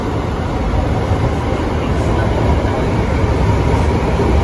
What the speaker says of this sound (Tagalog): At may paparating na naman na train. Yan po ay 3rd gen train set.